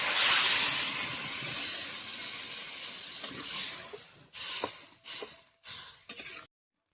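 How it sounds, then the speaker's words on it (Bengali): Water poured into a hot pan of fish curry hisses loudly at first, then settles into a steady sizzle broken by a few short bursts of bubbling before cutting off. "এবার জল দিয়ে দিলাম।"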